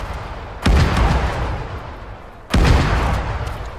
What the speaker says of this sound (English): Ishka is firing their crazy fucking AP fuck you rounds.